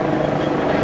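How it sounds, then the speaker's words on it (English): A helicopter flies overhead above a farm, its loud, steady rotor and engine roar filling the short stretch without a break. "Let's make it louder for the helicopter."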